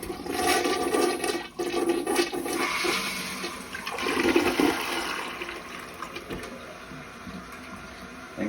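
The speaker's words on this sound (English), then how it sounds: "Let's get her filled back up and I'll show you the flush." A toilet flushing after being rebuilt with a Korky repair kit: a loud, sustained rush of water that swells and gurgles for several seconds, then settles into a steady refill hiss, with no talking.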